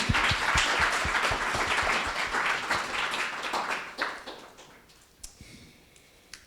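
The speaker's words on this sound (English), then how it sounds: "So huge round of applause to all of our volunteers that help make this happen." An audience at a business accelerator's final presentations applauds volunteers, dense clapping that thins out and dies away into scattered last claps.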